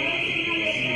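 An alarm goes off during a lecture on Mexican mining: a steady, piercing electronic tone holds unbroken for the whole second at moderate loudness.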